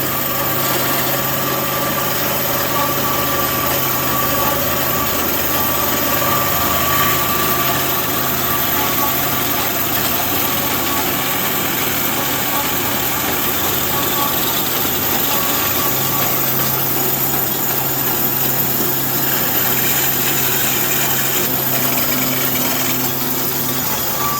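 A rebuilt Amada HFA 400-W band saw runs steadily for the whole stretch, giving off an even mechanical whir and hum with a faint high whine and a light rattling vibration, with no one speaking.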